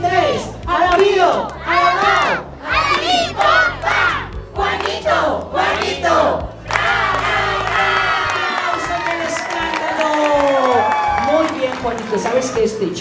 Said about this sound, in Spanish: Hoy, en el cumpleaños número 1 de Juanito, hay que decirle una porra muy fuerte